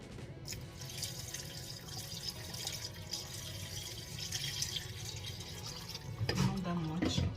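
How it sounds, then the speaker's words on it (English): Water poured from a tap into a cooking pot of meat seasoned with curry powder, a steady running splash and trickle throughout, with a person talking near the end. "then add some water."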